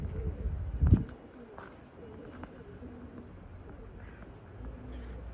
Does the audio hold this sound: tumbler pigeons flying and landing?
yes